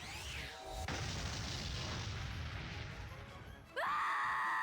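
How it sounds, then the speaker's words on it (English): A booming explosion-magic blast from the video game KonoSuba: Fantastic Days erupts loud and sustained for a few seconds, then cuts to a bright synthetic tone; faint voices sit briefly at the edges. "the roar of Megumin's explosion magic"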